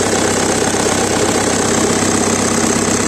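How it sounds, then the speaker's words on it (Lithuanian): A Volkswagen Passat engine idles steadily right after starting, a loud, close, even rumble with a faint knocking texture and no voices. "Variklis užvestas"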